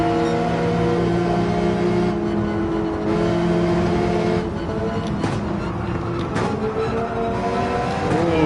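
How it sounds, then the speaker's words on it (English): Race car engine in Gran Turismo 7 roaring steadily through a downshift, with harmonic engine tones shifting pitch as revs rise and fall over a dense, continuous mechanical drone. "I was able to downshift to get down to the correct speed"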